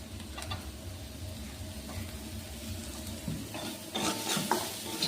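Chopped carrots fry in oil in a pan with a soft, steady sizzle, broken by intermittent scraping and stirring strokes that grow a little louder toward the end.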